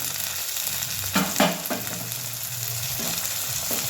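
Chopped tomato and onion fry in a pan for an okra bhaji. A steady sizzle runs underneath, while a few sharp stirring clatters and scrapes come through, most densely in the first half.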